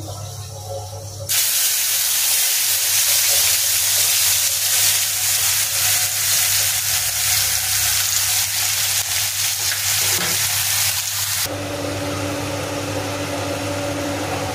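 Black cumin seeds and ground spices drop into hot oil for a boal fish curry, bursting into a loud, steady sizzle that holds for over ten seconds before easing to a softer hiss.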